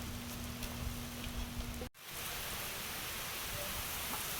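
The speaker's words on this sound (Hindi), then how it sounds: "बारिश की बूंदें पड़ रही हैं" Rain begins falling outdoors, a dense, steady hiss of raindrops close by that fills the scene continuously, briefly cut by a short dropout, with no talking.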